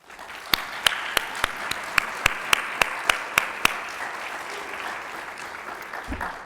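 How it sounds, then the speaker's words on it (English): Applause from the audience at a national faculty meeting for standing editorial board members: a steady wash of many hands clapping, with a few sharp, evenly spaced claps standing out near the front before the sound thins toward the end. "a round of applause"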